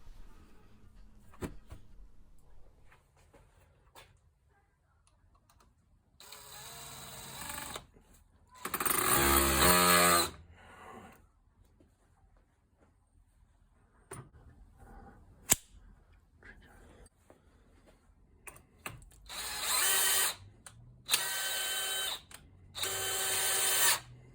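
Test run of a DeWalt DCD996 cordless hammer drill after its chuck was replaced: several loud close bursts of drilling with a rattling hammer action, separated by quiet gaps holding small handling clicks.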